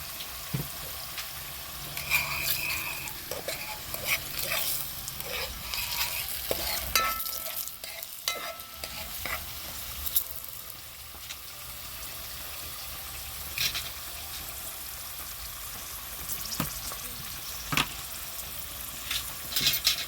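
Turmeric being stirred in a pot for Jamaican curry goat: an ongoing close sizzle with irregular scraping strokes and occasional clanks of the spoon against the pot, moderately loud, with no speech.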